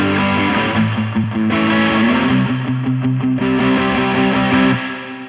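Heavily distorted Fender Modern Player Jazzmaster HH electric guitar playing sustained chords, loud and close, with thick crunchy tone and brief changes between chords.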